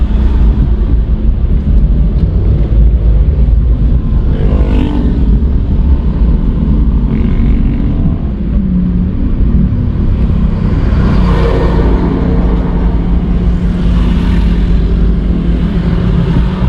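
Continuous road traffic at night in Calamba forms a loud, steady roar of car and motorcycle engines close by, with passing vehicles swelling and fading over the rumble.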